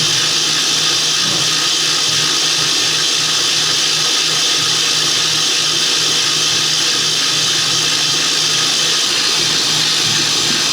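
A GE Profile smart stand mixer whipping egg whites, a continuous loud, even motor whine with a high beating hiss held steady throughout, close up and with no talk.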